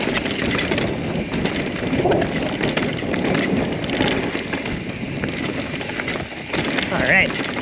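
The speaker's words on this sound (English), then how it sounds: "Really windy." Strong wind buffets the microphone at the top of a mountain bike trail, a loud, continuous rushing roar with gusty surges and a brief voice near the end.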